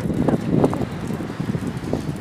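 Wind gusts buffet the microphone outdoors during a scenic walk in France, a rough low rumbling roar that swells and fades unevenly throughout.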